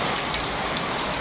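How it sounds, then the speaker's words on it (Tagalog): Heavy rain pours down in a dense, constant hiss that covers everything and carries no voices. "ang lakas ng ulan"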